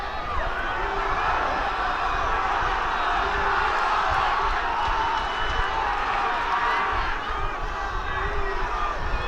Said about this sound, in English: So the crowd getting involved.